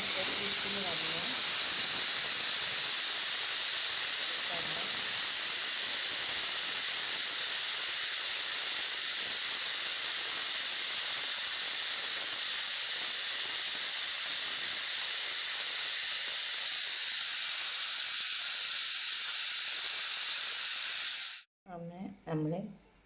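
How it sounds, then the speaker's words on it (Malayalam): Raw rice boiling in a covered pot with steam hissing steadily, a continuous loud high hiss holding for about twenty seconds before cutting off abruptly. "തിള വരുന്നുണ്ട്"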